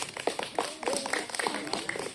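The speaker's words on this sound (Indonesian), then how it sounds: "Oke, tepuk tangan untuk Winda" A school audience applauds a student named Winda after her reading at a readathon event, a scattered crowd clapping at moderate volume that carries steadily for a couple of seconds.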